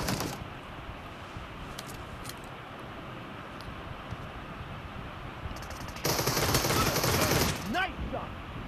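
Automatic gunfire in a PUBG Mobile team deathmatch, a steady rattling stream of shots with a louder, denser burst near the end, set against game ambience.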